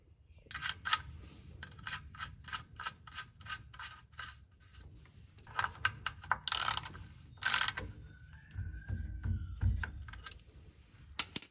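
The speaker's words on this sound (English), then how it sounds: "We'll get the plug put back in, maybe give the cover one more wipe, and we're done with this." A ratchet tightening the differential fill plug on a Ram truck, rapid clicking runs in short repeated bursts, close and crisp, with brief rustles and tool handling between, no talking.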